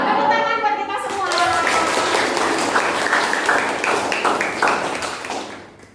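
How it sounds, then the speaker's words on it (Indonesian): A classroom of students breaks into applause, a dense burst of many hands clapping that follows a teacher's voice, then keeps up steadily before fading out at the end. "Tepuk tangan buat kita semua."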